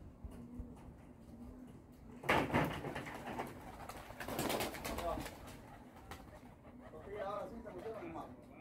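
Racing pigeons coo at a loft after a 250-mile race in Lehigh Acres, Florida, with soft, irregular calls mixed under nearby talking and rustling.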